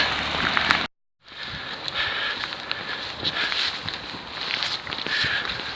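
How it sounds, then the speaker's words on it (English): Heavy rain pours down on a walker on the Norfolk Coast Path near Great Yarmouth, a dense steady hiss with scattered patter and a brief dropout near the one-second mark. "The rain's really coming down now"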